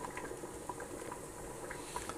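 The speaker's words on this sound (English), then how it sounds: "It's still on the simmer, it's still bubbling away" Blackcurrant jam with sugar stirred in simmers in a pan, giving a steady, soft bubbling with small irregular pops and blips throughout, fairly quiet and close, with no talking.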